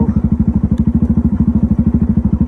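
A motorbike engine runs close by with a loud, steady, rapid thumping beat that continues unchanged throughout, alone and without talk.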